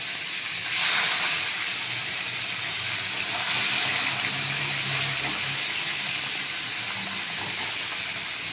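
A loud, steady sizzle of bhetki fish frying in hot oil fills the scene, a broad hissing crackle that swells slightly and continues without speech.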